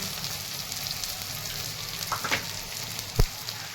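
Cumin and mustard seeds sizzle in hot oil for a traditional tomato chutney, a steady close crackling hiss with a few sharp pops and one louder clatter near the end.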